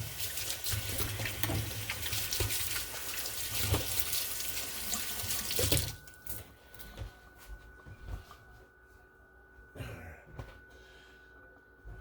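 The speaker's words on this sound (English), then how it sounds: "Wash your hands." Water runs steadily from a tap with splashing as hands are washed for several seconds, then shuts off, leaving faint drips and small handling sounds.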